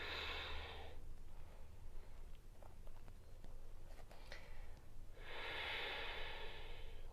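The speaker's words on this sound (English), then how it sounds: "Continue to breathe through your nose." Slow breathing through the nose during a yoga session, two long soft hissing breaths close to the microphone, separated by a quiet stretch with faint rustles.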